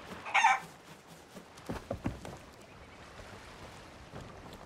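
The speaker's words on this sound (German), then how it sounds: "Es gackert und flattert hier unten rum" In the pirate video game Sea of Thieves, a chicken gives a sharp crowing squawk, then a few scattered clucks and soft flutters follow, faint and somewhat close against quiet ambient sea background, with no speech.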